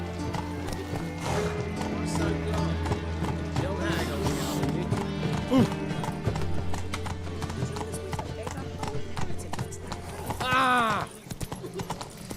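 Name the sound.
horse galloping in The Witcher video game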